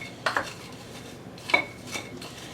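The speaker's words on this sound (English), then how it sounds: "So I'll just stir constantly now and hopefully it will coat evenly." Cajun pecans being stirred in a crock pot, a few clinking scrapes of a spoon against the pot spaced over a couple of seconds, close and quiet.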